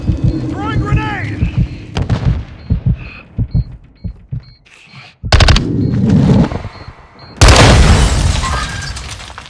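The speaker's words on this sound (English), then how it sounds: "Throwing grenade." Multiplayer combat in the video game Call of Duty Modern Warfare 2 brings loud, close blasts that fit a grenade explosion, with heavy rumbling bursts near the middle and end among gunfire, radio chatter and other game sounds.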